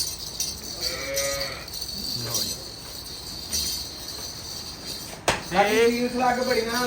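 A Jersey calf moos twice, once early and once loudly near the end, over outdoor background noise and faint talk.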